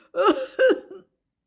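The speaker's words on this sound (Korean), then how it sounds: "호랑이는 콜록콜록 헛기침을 했어요" Two short, raspy throat-clearing coughs in quick succession, close and fairly soft, then silence, as a tiger's cough in a Korean audio folktale for children.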